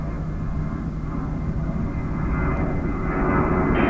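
Jet airliner roaring on takeoff from runway 22 right at JFK airport, a loud steady engine rumble with a whining tone that swells and grows nearer toward the end.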